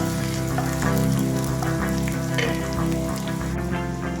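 Garlic frying in a pan (kawali) for a green jackfruit and coconut milk dish, giving a steady, fairly loud broadband sizzle with crackling pops and no talking.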